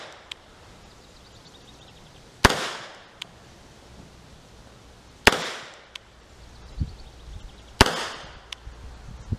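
Three loud, sharp revolver shots from a WW1-era Colt Model 1917 New Service chambered in .45 ACP, fired double action at an outdoor range, spaced a few seconds apart with quieter clicks and handling sounds between them.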